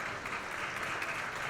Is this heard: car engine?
no